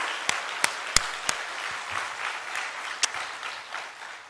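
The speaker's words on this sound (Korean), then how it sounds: "우리 다시 한번 뜨거운 박수로 우리 하나님을 향하여 박수로 영광 올려드립니다" A church congregation claps together during a worship prayer gathering. Steady, moderately loud applause runs throughout, with a few sharp, distinct claps standing out near the start.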